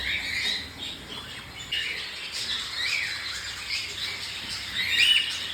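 Several pet cockatiels, including white-face pearl pied birds, squawk and chirp in short bright bursts at a steady pace, close by with no talking.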